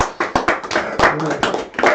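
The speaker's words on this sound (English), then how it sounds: "Come on, clap, clap, clap." An audience claps after a stage conversation at an art installation, a short burst of scattered, uneven hand claps close by, mixed with a voice talking over them.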